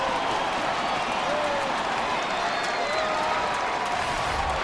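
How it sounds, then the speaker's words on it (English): Video-game crowd noise from a 2K World Baseball Classic game, a steady roar of cheering and applause from a hometown playoff crowd after a home run, continuous and fairly loud throughout. "the hometown crowd very, very happy the way their players performed"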